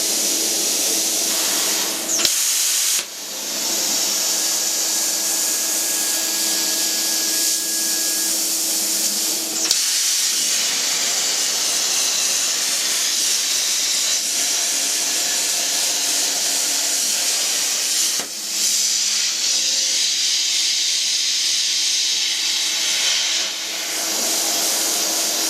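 A plasma cutter slices thin sheet metal with a steady, loud hissing rush that runs nearly the whole time, broken by a few short pauses between cuts.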